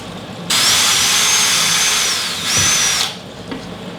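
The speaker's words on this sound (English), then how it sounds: "Now when you pre-drill these screws," A power drill whirs steadily while pre-drilling screw holes during an exterior door install, a close, loud burst that dips briefly and resumes before stopping.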